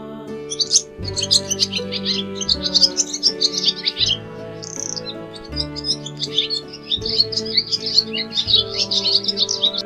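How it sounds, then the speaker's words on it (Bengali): A dove calling from a tree, heard as quick, bright chirps and twitters repeating throughout, fairly loud, layered over steady background music. "ঘুঘু পাখি ডাকছে গাছে।"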